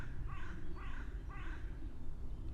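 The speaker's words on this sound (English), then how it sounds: "Here, in the woods, there's quite a lot of birds." Crows caw repeatedly in woodland, three harsh calls spaced about half a second apart over a steady low rumble of outdoor background noise.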